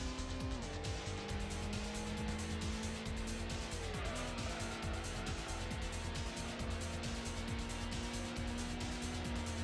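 A GTO race car in Gran Turismo roars continuously at high revs, the engine note sweeping down under braking with tire squeal, a dense, loud game engine sound throughout.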